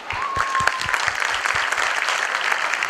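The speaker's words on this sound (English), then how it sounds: "Everyone, please give these talented students a huge round of applause." An audience at a primary school Grade III event gives a lively round of applause for the students' performance. Dense clapping is punctuated by a few low thumps, with the crowd sounding close.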